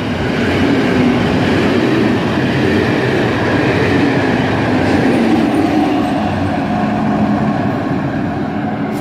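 A train passes through Üllő railway station, a loud, continuous close rumble of wheels and carriages that holds steady throughout, with no talk.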